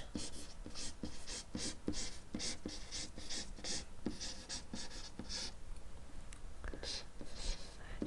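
Chalk or marker strokes on a board during a geometry lesson on inscribed angles, a fast run of rhythmic scratchy taps and rubs, close and quiet, with a short pause before the writing resumes.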